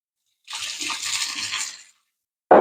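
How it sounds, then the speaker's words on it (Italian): A glass of water poured into a frying pan of sizzling olive oil and chopped garlic for a Sicilian dish, giving a bright hissing splash that lasts over a second, then stops, followed by a brief sharp burst. "inserisco un bicchiere d'acqua"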